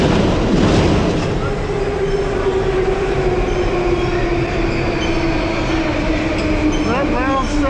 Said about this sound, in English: That loud sound would be the train.